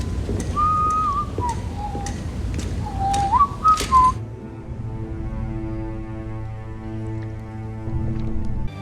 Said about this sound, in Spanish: tanto en este momento con Tyrion silbándola